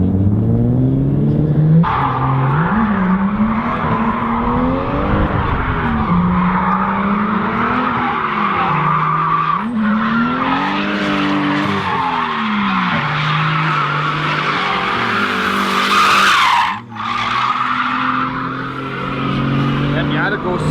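A Mazda Miata drifts at the Icar track, its engine revving up and down through repeated rises while tires squeal and skid loudly nearby, with people talking over it.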